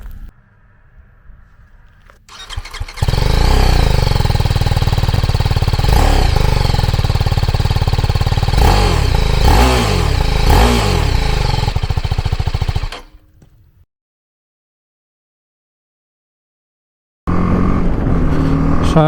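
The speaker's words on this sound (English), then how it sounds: "let's see what she sounds like when we start her up." A BMW G310 GS single-cylinder motorcycle with a three-way catalytic converter exhaust starts up close by and runs loudly with a few sharp revs, then falls silent before the engine note returns at the end.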